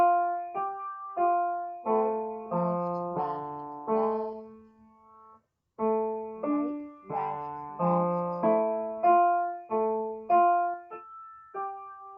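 A simple melody and bass line are played together on a bright keyed instrument, notes struck steadily with a short pause midway, quiet and alone.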